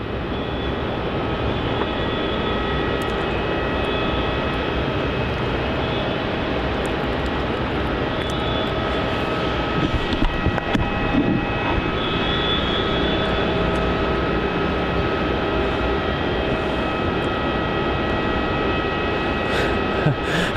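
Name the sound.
QF766 airliner arriving on runway 16, Melbourne Airport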